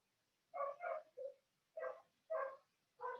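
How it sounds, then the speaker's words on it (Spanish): A dog barks six times in quick bursts, slightly distant, with brief pauses between groups of barks against a quiet background. "se puso a ladrar el perro vecino"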